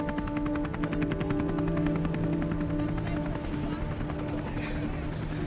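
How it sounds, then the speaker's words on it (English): Police helicopter hovering overhead at a scene with heavy police presence, a continuous pulsing rotor chop that stays steady and fairly distant for the whole stretch, with faint talk underneath. "So they've got a chopper there and 2 forklifts."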